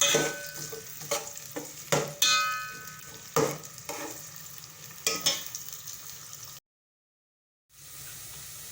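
Onion fries in a pan with a steady sizzle and several sharp clattering stirs, then a brief dropout before the frying resumes.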